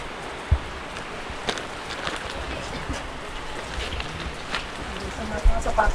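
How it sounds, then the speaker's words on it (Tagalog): Heavy, unbroken rain pours down on a Laguna loop road trip through Jala-Jala, a dense hiss of falling water with a few scattered thumps and knocks, fairly loud and close. "Walang tigil ulan."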